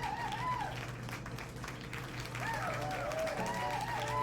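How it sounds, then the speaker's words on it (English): An audience at an online awards stream claps in a soft, steady patter of applause, heard throughout alongside a faint voice and some warbling tones. "So everyone starts clapping."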